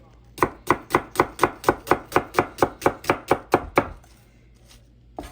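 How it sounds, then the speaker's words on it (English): Knife chiffonading a halved, peeled onion on a cutting board: about fourteen crisp, evenly spaced chops in quick steady rhythm, close and loud, then the cutting stops. "now what we'll do is we'll chiffonade the onion"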